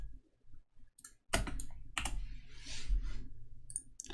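A computer keyboard is typed on in a few sharp, close clicks and short bursts of keystrokes, separated by quiet gaps.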